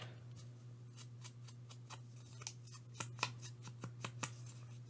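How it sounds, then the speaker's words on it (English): Scissors snip paper ephemera in a string of quick, crisp cuts that turn denser and louder toward the end, heard close up over a steady low hum. "I'm going to cut this down because I don't want it to cover up that rose."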